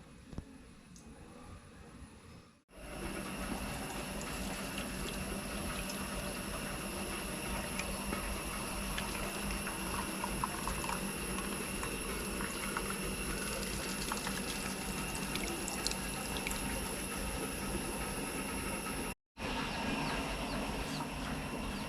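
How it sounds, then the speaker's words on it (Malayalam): Homemade herbal hair oil boils steadily in a pan on the stove, a continuous bubbling hiss that runs almost unbroken at moderate loudness, with only brief gaps and no talk. "ഇപ്പോഴും എണ്ണ വാങ്ങി വെച്ചപ്പോഴും നല്ല തിളച്ച് വരുന്നുണ്ട്"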